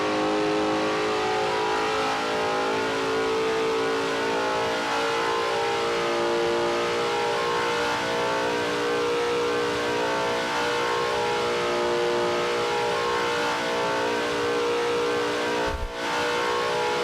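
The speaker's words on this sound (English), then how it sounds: "This car is loud." A Formula 1 car engine in the iRacing sim at Silverstone drones steadily and loudly, revving with a constant high-pitched whine throughout, no voices.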